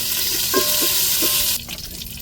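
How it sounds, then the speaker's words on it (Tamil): Chicken and curry leaves fry in a pan, giving a loud, steady sizzle up close with a few soft stirring knocks; the sizzle drops away sharply near the end. "இப்போ கருவேப்பிலை சேர்த்துக்கிறோம் ஆட்டிக்கிட்டே சிக்கனை சேர்த்துருவோங்க கறியை"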